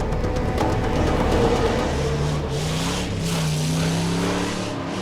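A car engine hums and revs steadily as the vehicle is driven along, loud and continuous with shifting tone as it accelerates.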